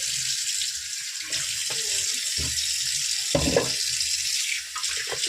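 Fresh fish cut into large round pieces being rinsed under running tap water in a sink, a steady broadband splash with a few brief knocks and handling sounds, close and fairly loud.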